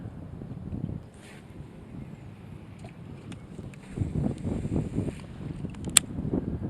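Wind buffets the microphone in low rumbling gusts outdoors on a muddy riverbank while bass fishing, with faint background sounds and a brief sharp tick.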